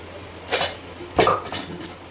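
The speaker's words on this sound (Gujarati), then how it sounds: "હવે આપણે તેને આમાં લોયામાં ફેરવી નાખશું કુકરમાંથી" Mini undhiyu is scooped out of a pressure cooker into a kadai, heard as two or three close metallic clinks and scrapes of a spoon against the pots, brief and without any talk.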